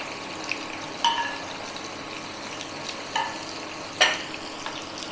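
Cauliflower pakoras fry in hot oil with a faint, steady sizzle, broken by a few sharp clicks from a utensil.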